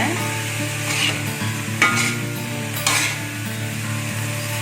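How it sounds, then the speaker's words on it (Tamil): Mixed vegetables fry in sesame oil while being stirred, a steady close sizzle with three louder scraping sweeps of the spatula through the pan. "செசமி ஆயிலில் ஊற்றி நல்லா கிண்டி விடுங்க."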